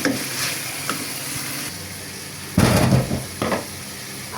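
Whole garlic cloves fry in a pan with a steady, close sizzle that swells into a louder burst of crackling and spitting before settling again.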